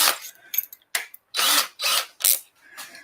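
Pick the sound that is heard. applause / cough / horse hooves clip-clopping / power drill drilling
power drill drilling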